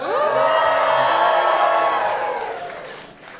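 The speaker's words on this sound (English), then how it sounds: "everyone clap it up for Ashlynn" A studio audience at a dating show cheers and whoops loudly, with a crowd roar that swells and then fades over a few seconds.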